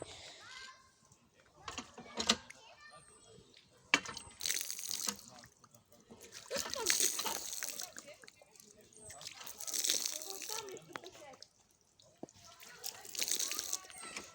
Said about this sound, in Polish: Ta woda leci.